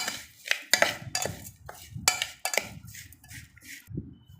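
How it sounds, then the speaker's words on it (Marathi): A spoon clinks and scrapes against a metal bowl while a Malvani-style dry bhel mixture with chopped coriander is stirred together, in quick, uneven, close-up strokes with no voices. "आणि आता मिश्रण छान असं एकजीव करून घेणार आहे"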